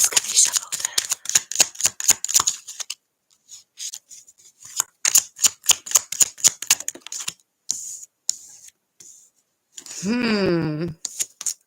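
Rapid bursts of tarot cards being shuffled, crisp riffling flaps in quick runs with short pauses, close and fairly loud, with a brief voice near the end.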